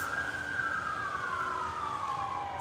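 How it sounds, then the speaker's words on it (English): An emergency vehicle siren wails at a distance, a single sustained tone gliding slowly downward as it passes, faint over a quiet nighttime backdrop. "y'all hear the sirens?"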